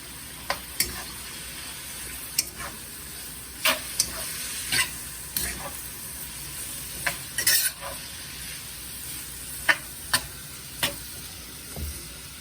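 An egg fries in a pan for Singapore mei fun, giving a soft, steady sizzle with occasional light clicks of a utensil stirring or prodding, quiet and close, with no voices.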